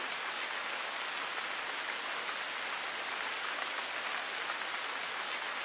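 Steady rain falls throughout in the video game Sword Art Online Hollow Fragment, a constant even patter with no talk over it.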